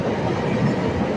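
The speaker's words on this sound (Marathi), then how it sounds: "इथे ही जी मेट्रो आहे ती 100 वर्षापूर्वीची" A century-old elevated metro train in downtown Chicago rumbles past overhead, a brief, dense roar of wheels on track that stays loud throughout.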